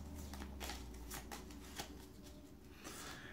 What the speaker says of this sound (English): You're going to shuffle up the discard pile